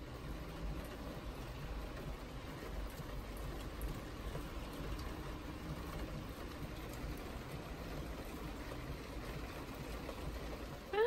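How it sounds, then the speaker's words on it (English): Rain falls outdoors on a British school-run morning, a faint, steady hiss of drops pattering without pause, with a low background rumble beneath it. "It's raining again."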